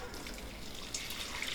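Water pours from a pot of three-quarters-cooked rice as it is drained, a steady close splashing rush that runs through the whole short stretch without pause.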